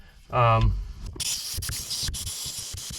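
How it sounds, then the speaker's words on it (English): Compressed air blasts through a speedometer cable line in a steady, close broadband hiss that runs to the end, following a brief voice-like sound at the start. "I'm gonna go ahead and run some compressed air through it just to make sure everything's nice and clear"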